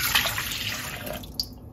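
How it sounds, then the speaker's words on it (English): Lukewarm milk pours into a large bowl in a short, soft, continuous splashing stream heard up close. "In a large bowl, add 1 cup of lukewarm milk"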